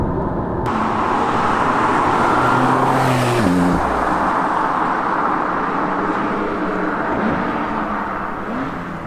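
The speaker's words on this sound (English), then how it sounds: "I've just put the car in Sport Plus, and I'm going to put it in manual" A 2017 Porsche 911 Carrera S in Sport Plus mode drives with a steady engine drone and a brief rev change midway, heard loud from inside amid road and tyre noise.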